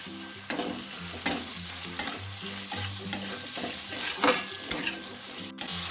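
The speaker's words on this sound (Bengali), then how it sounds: "টমেটোটা গলে যাওয়া অবধি একটু কষিয়ে নেব ভালো করে।" Tomatoes and chillies sizzle and fry in a pan while a spatula stirs them in steady strokes, with periodic scrapes and taps over continuous background music.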